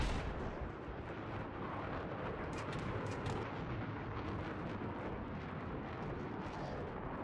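A jet's cannon firing at a helicopter in Battlefield 3, a dense continuous roar of rapid gunfire and engine noise, loud and sustained throughout without talk.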